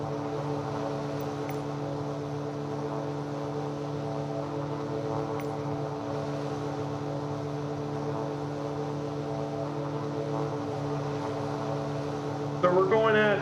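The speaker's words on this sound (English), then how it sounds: "not only is this a stunning plane to fly, but I mean, it's perfect for today's flight" Inside the cabin of a small propeller airplane in level flight, a steady droning engine hum with a constant tonal buzz runs throughout, even and moderately loud, ending with a brief noise burst.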